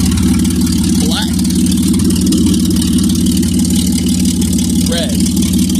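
A car engine idles loudly and steadily with its exhaust removed, a dense rough drone with a constant low throb that stays close throughout, while two brief rising whistles sound over it.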